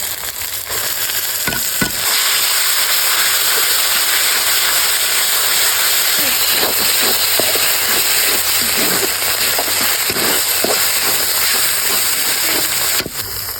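Boiled greens fry in oil in a pan, a loud continuous close sizzle and hiss with occasional stirring scrapes, steady throughout.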